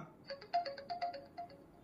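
A Boat Wave Sigma smartwatch plays its Calm ringtone, a soft melodic run of electronic chime notes at a steady gentle pace, quiet and close, with no voices.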